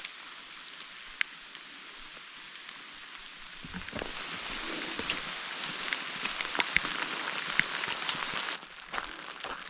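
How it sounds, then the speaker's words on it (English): Rain begins falling on a backpacking trip in Colorado's Never Summer Wilderness, a steady patter that thickens after a few seconds into denser, louder drops before easing slightly near the end, with no one talking. "we've avoided the rain so far, but I think now it's time for it to come down"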